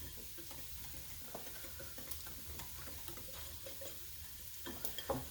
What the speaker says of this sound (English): letting this sausage and onions cook up